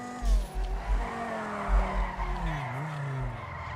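Car drifting and skidding in a RedlineRP roleplay video game, a close, sustained tire squeal that bends in pitch over the engine's drone, with thuddy low bumps.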